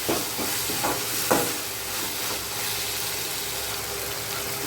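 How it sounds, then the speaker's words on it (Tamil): Onion-tomato gravy with a little salt sautés in a pan, a steady broadband sizzle running throughout with a few faint scrapes near the start. "நல்லா வதங்கட்டும்"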